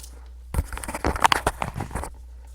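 Tarot cards being shuffled, a quick papery riffle of overlapping flicks lasting about a second and a half, close and fairly quiet, then silence.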